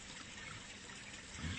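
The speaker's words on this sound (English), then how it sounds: "we have a flow coming from the pump" Water pumped up into the top grow bed of an IBC aquaponics system, a faint steady trickling flow with no voices.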